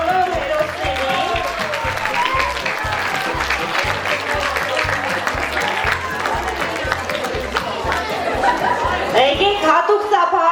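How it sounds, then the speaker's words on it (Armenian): Children in a school audience applaud the boys on stage with steady, dense clapping that runs throughout, mixed with crowd chatter and a few chuckles, while a voice speaks over it. "Երեխեք ջան, եկեք նա բարձր ծափահարենք մեզ լվաբերի բոլոր հերոսներին։"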